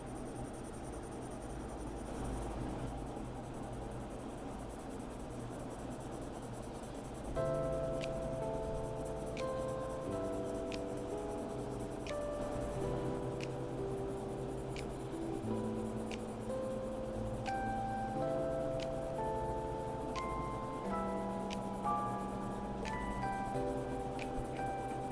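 Colored pencil coloring on paper, comparing Prismacolor Premier and Faber-Castell Polychromos, a soft continuous scratchy rubbing of pencil strokes, close and steady, beneath quiet background music.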